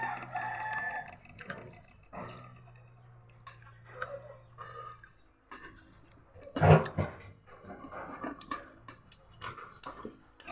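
A rooster crows several times at moderate distance, its calls mixed with clucking fowl and light ticking noises, with no talking.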